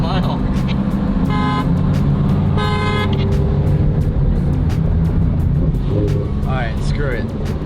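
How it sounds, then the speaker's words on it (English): Lamborghini horn sounds twice in short, sharp blasts over a loud, rumbling engine and road noise, with voices talking and calling out excitedly near the end. "No, that was my honk."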